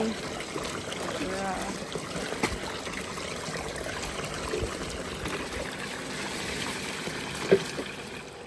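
Water runs and trickles steadily at a home in Jaffna, Sri Lanka, a soft, continuous stream with light splashing, faint and fairly close, with a sharper splash near the end and some quiet talk in the background.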